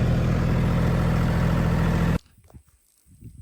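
A Mahindra 1635 tractor engine drones loud and steady near a pecan orchard, then cuts off abruptly, leaving only faint scattered low rustles and thumps.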